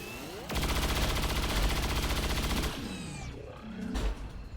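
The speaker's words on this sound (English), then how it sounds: "But just give it the cyclic fire." A burst of cyclic automatic gunfire in XCOM 2 rattles loudly for about two seconds, followed by metallic clanks and a trailing whoosh.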